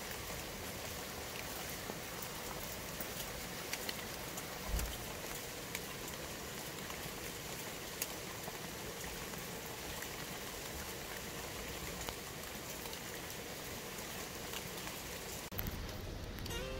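Steady rain falls outdoors as a faint, even hiss of drops, constant throughout with no talk.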